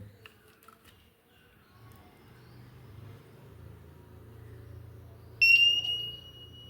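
A small test buzzer wired to check a transistor without a multimeter stays quiet over a faint low hum at first, then breaks into a sharp, steady high-pitched tone for just over a second near the end.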